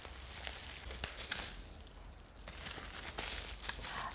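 Tightly sealed plastic bag around new Hanbat billiard cues being pulled open, with continuous close crinkling and crackling, sharp tearing snaps here and there, and busier rustling toward the end.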